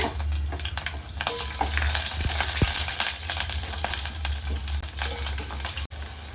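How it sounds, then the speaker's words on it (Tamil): Mustard seeds, curry leaves and green chilies fry in hot oil for wheat sambar, a loud, continuous crackling sizzle with a couple of sharp pops partway through. "கடுகு கருவேப்பிலை பொரிஞ்சதும் பச்சை மிளகா போடலங்க"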